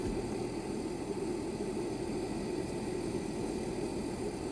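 A BougeRV car fridge for camper-van use, powered by a Jackery Portable Power 70 station, runs with a steady, unbroken hum and airy fan-like hiss, constant and fairly quiet, with no voices.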